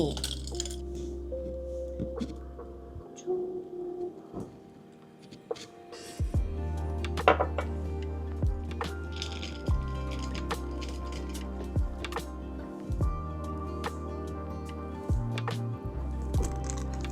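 Portable Outin Nano espresso maker brewing with water: a low motorised pump buzz runs in stop-start bursts, joined by small drips, wet squishes and light glassy clinks, close by with no talking.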